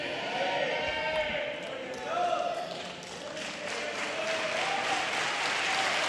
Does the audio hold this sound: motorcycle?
no